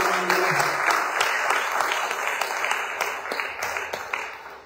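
A church congregation in Senegal bursts into loud, sustained applause, many hands clapping close and full, then slowly tapering off across a few seconds.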